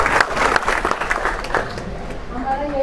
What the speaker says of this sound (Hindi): एक बार जबरदस्त तालियां हैदराबाद से